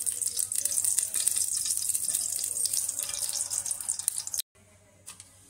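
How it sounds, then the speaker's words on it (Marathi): Desi ghee heats and sizzles in a pressure cooker after mutton has been removed, a close, bright crackling hiss that runs steadily, then stops abruptly and returns faintly. "साजूक तूप घालते मी 2 चम्मच"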